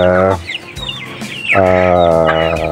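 Several chickens cluck and call loudly close by at a farm, with overlapping harmonic squawks in two bursts separated by a brief lull.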